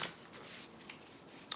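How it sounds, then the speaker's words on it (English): A deck of oracle cards is shuffled by hand, a soft, quiet riffle of papery flicks and brushing slides, close by with a sharper snap at the very end. "I have seen those same cards over and over again in this deck as I've been shuffling."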